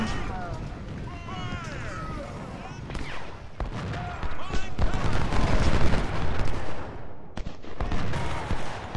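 Rapid gunfire crackles amid heavy booming cannon blasts in the Civil War video game Ultimate General: Civil War, with shouting voices and a dense battle din that grows louder midway.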